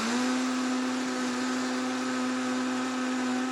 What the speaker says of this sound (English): I put 3 cups of oats in my blender.